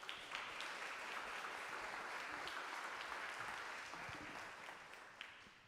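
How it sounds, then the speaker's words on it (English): Symposium audience at a polar science event gives a round of applause, a fairly faint but continuous patter of many hands clapping, tapering slightly toward the end. "Let's give them a round of applause."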